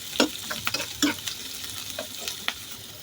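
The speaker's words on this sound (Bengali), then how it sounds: "আমি এটা সুন্দরভাবে একটু লাল লাল করে ভেজে নেব" Onions and green chilies fry in hot oil in a pan, a soft sizzle broken by sharp clicks and scrapes of a spoon stirring, close and fairly quiet with no talking.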